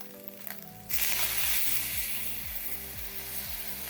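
Noodles and pasta in a hot pan burst into a loud, close sizzle when soy sauce hits them, after a near-silent start. The hiss stays strong and continuous to the end over a faint steady hum.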